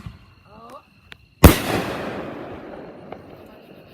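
Fireworks going off outdoors: a short whistle and faint pops, then one loud sharp bang that booms and crackles before fading over a couple of seconds, with a small later pop.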